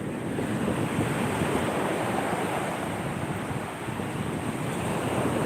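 Sea waves wash steadily against the shore, a loud continuous roar of surf mixed with wind buffeting the phone microphone, filling the whole stretch without any talking.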